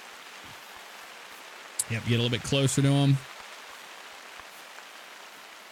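Steady rain pattering in the hunting game theHunter: Call of the Wild, a soft even hiss throughout while someone speaks briefly in the middle.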